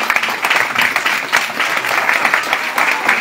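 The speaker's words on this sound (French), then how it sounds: "J'aimerais qu'on l'applaudisse," A room of people applauds a guest at a political gathering, brisk and fairly loud clapping with a few distinct claps popping out of the dense patter, continuous for a few seconds.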